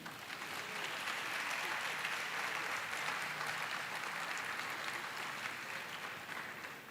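Sustained applause from an audience at a university matriculation and welcome ceremony, dense even clapping that swells and holds for several seconds, heard at a moderate distance.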